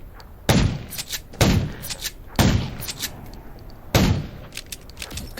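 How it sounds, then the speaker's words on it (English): Four heavy gunshots boom in the zombie survival game Undawn, spaced about a second apart with a lingering tail after each, over low ambient game noise. "Gunshots will attract more zombies."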